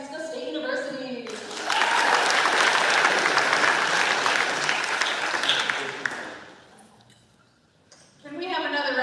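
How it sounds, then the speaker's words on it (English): Audience applause at a senior men's recognition during a live RMCWS event at Regis University, a dense burst of clapping sustained for several seconds that fades out, with a voice talking before and after it. "Can we have another round of applause for our senior men?"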